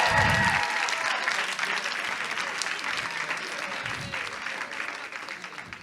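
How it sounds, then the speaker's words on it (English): Sustained audience applause at an elevator pitch contest, loud and dense from the start and holding steady for about six seconds, with a faint voice underneath. "Applause again because wasn't easy."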